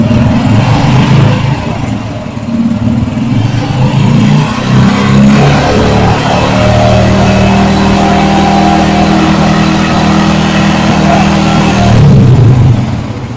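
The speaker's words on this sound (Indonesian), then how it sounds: "Coba digas." Motorcycle engine revving as the throttle is opened, a loud close engine roar that rises and falls through several throttle blips before settling into a steadier hum, then rising again near the end.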